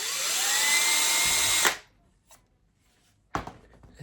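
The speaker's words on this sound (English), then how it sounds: "I'm going to drill another hole" A small drill whines into a metal guitar front panel for under two seconds and then stops, followed by a couple of faint clicks and a short clatter.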